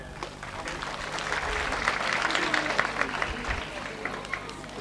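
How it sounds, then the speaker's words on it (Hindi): Steady applause fills a school annual function, a crowd clapping continuously and fairly loudly throughout with a dense, even texture and faint voices mixed in. "तालियां में जाए कृपया"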